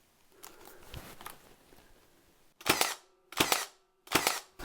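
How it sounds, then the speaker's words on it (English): A Milwaukee GEN II cordless nailer in bump fire mode fires three sharp, loud shots in a quick uneven row, not fully driving the nails, after a stretch of soft handling noise. "Let's try bump fire again."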